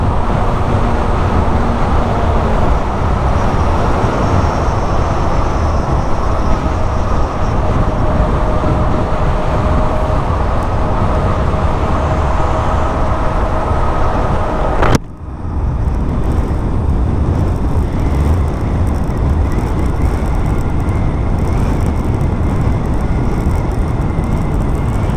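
Zero SR/F electric motorcycle cruising at highway speed, a loud continuous rush of wind and road roar with a steady whine, briefly dipping midway before resuming, no voices.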